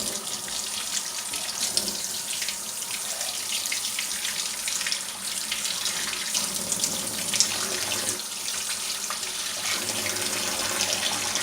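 Warm water runs steadily from a tap into a sink as it fills, a continuous splashing hiss lasting the whole time with no talking.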